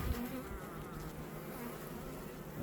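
Honeybees buzz densely and continuously at an open beehive during a hive inspection, a close, steady hum with no talking.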